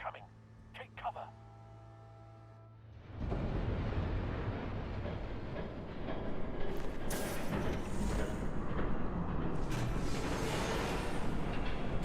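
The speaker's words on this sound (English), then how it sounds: "There's a train coming. Take cover." A train rumbles past in the Batman Telltale Series video game, a loud, steady roar of rolling noise that begins abruptly after a few seconds of quieter ambience and continues, building slightly, to the end.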